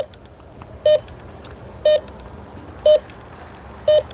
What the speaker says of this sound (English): as I come in to the metal, you'll hear that beep